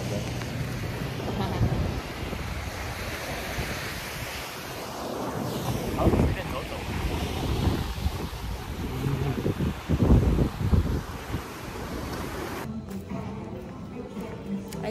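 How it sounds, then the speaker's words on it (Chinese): Sea breeze and surf on Sanya beach in China, a continuous wash of waves and wind buffeting the microphone, with occasional swells rising, fairly soft overall. "吹海风也是好的。"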